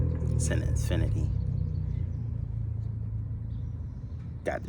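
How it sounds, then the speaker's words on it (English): A nearby Infiniti's engine rumbles at a low, steady idle, close and fairly loud, with brief bursts of talk over it at the start and end. "His car sounds good."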